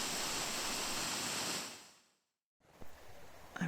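Steady broadband roar of a waterfall in a cave, loud and continuous, then fading out to near silence before faint rushing and a few small knocks return.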